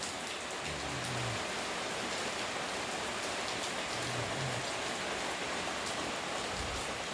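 Steady, even rainfall pattering down on surfaces close by, a continuous wash of hiss with a few low background hums, and no voices.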